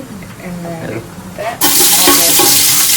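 Ginger drops into hot oil with a sudden loud burst of sizzling that then holds steady and close, following a quieter stretch of kitchen noise.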